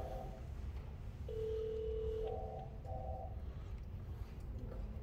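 Telephone tones at a police department: a series of electronic beeps and a sustained steady tone, close and clear over a low background hum, with no talking.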